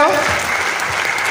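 An audience claps loudly and steadily at an indoor motivational business event, a dense continuous burst of applause with a voice briefly over it.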